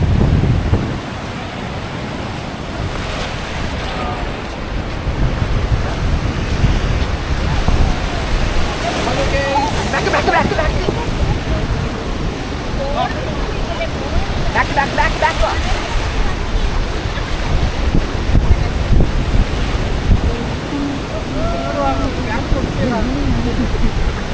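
Steady roar of surf with waves washing in, broadband and continuous, with voices talking intermittently over it.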